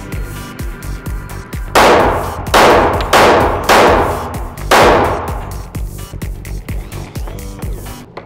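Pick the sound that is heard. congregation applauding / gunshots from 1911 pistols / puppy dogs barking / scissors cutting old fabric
gunshots from 1911 pistols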